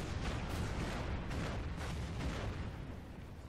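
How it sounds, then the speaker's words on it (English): Artillery fire in a World War II Tarawa battle video game sounds as a dense, continuous rumble of distant booms and blasts. The barrage stays fairly even and muffled throughout. "Get some artillery ready."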